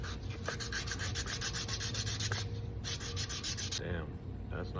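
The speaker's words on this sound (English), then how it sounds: "Give it a nice little finish sand real quick." A wooden humpback jerkbait lure gets a finish sanding with 300 grit sandpaper, a quick run of rapid, close, rhythmic scratchy strokes that stops briefly near the end, with no talking.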